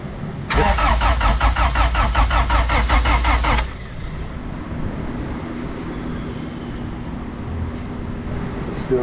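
An Acura NSX engine with fuel pressure but no spark cranks for about three seconds in a loud, rapid rhythmic chug from the starter, never firing, then cuts off abruptly, leaving a low background hum.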